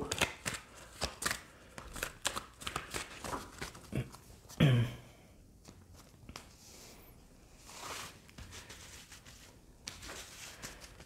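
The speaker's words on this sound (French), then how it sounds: "on va tirer d'autres cartes du tarot" Tarot cards shuffled and handled at close range, a run of quick papery riffles and slaps followed by softer sliding and tapping as cards are drawn and laid out, with no talking.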